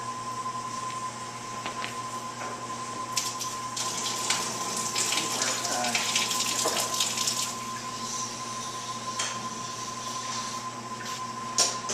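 Water trickles and splashes steadily while being added to a thrown clay pitcher during handle attachment, a continuous running-water sound at moderate level with a faint steady hum beneath and no voices.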